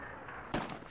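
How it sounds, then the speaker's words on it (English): A grenade blast in the video game Myth II Soulblighter, one sharp loud burst rising suddenly out of low game noise and fading quickly. "That was a great nade by Ripper"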